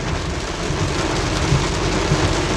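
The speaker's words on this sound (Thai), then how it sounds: "ฝนตกแรงเหมือนกันครับ" Heavy rain hammers down in Bangkok's Bang Kapi district, a loud dense roar with low rumbling beneath, continuous and close with no voices.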